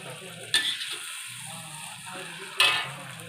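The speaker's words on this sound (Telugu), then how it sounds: "ఇప్పుడు నూడిల్స్ వేసుకొని కలుపుకోవాలి బాగా" Noodles being stirred and mixed in a pan, two sharp scraping clatters of a utensil against the pan about two seconds apart over a low rumbling background.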